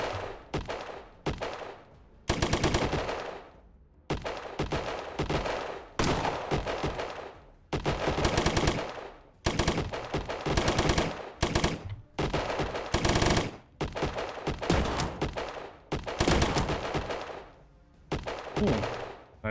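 Rifle fire in the video game Colony Ship rattles in rapid repeated bursts, loud and dense, with short gaps between volleys and no talk over it.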